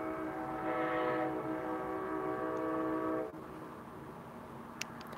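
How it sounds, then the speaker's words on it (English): A train rumbles past in the background, a steady low roar with a sustained horn-like tone that holds for about three seconds, then cuts off abruptly, leaving quieter distant rumble and a faint click. "sorry for the train in the background."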